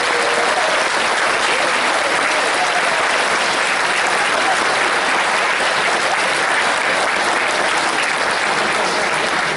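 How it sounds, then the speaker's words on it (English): Dense, sustained applause from a large convention audience in a hall, clapping loudly and evenly for the staff for several seconds without pause. "So round of applause for the staff, please."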